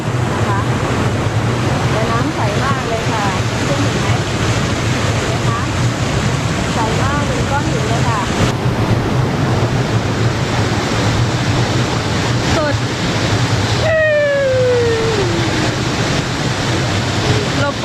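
A valley stream near Scafell Pike in the Lake District, flowing toward Wastwater, rushes steadily and loudly throughout, a constant flowing wash with faint voices and brief tonal chirps underneath.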